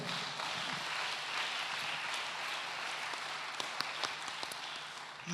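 A church congregation applauding for Jesus, a steady wash of many hands clapping, fairly faint and continuous with a few sharper claps near the end.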